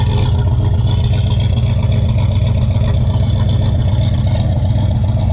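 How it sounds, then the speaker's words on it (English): Truck engine with a blown head gasket running steadily: a close, loud, rough low rumble with a fast uneven pulse throughout, no speech. "big time blown head gasket or something."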